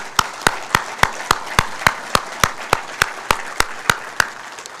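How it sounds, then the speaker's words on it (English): Steady, evenly spaced claps ring out in a rhythmic series of about fifteen beats at a student ambassador event, close and distinct over a soft background murmur. "So a round of applause for WTCS."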